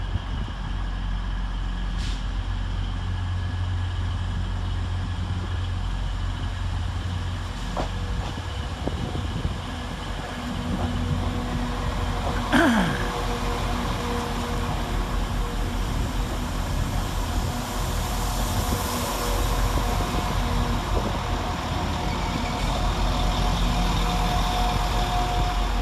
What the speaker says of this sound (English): Next train in to arrive is 195131 with the 1417 Northern service from York to Blackpool North.